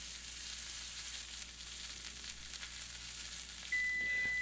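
Steak frying in a hot pan, a steady, even sizzle that holds close and constant throughout with no talking.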